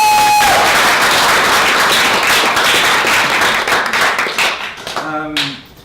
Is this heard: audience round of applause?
yes